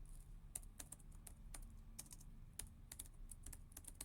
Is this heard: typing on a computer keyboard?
yes